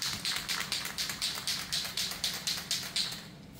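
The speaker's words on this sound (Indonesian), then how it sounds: "di sini untuk helmnya akan kita semprot dengan primer grey" A spray can of grey primer coats a motorcycle helmet in quick, even bursts: about a dozen short, evenly spaced hissing puffs, close and moderately loud, with no voices.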